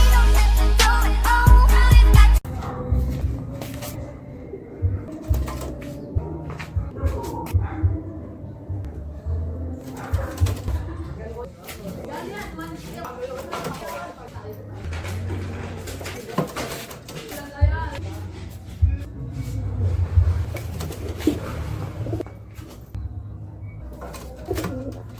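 Racing pigeons coo in a loft during a derby, with soft, repeated throaty calls overlapping at close range along with occasional rustling and clatter, following a brief louder burst at the start.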